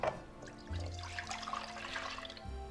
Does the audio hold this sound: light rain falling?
no